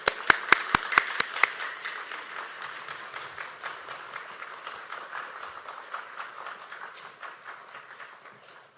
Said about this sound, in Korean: 우리 뜨거운 박수로 맞이하겠습니다